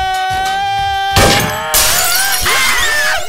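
Something shatters loudly and close, a sharp breaking crash over background music, followed by a second burst of smashing debris that rings out.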